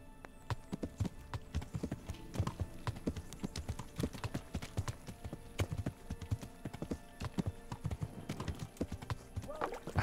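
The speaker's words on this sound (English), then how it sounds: "they're in on my horse" Horse hooves clip-clop steadily in Kingdom Come: Deliverance, a medieval role-playing game, with quick rhythmic footfalls running the full length at moderate loudness, mixed with faint game ambience.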